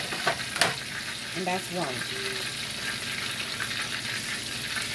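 Barbecue-sauced chicken sizzles steadily in a hot pan during meal prep, a constant bright frying hiss with a few sharper crackles near the start and a brief voice speaking over it.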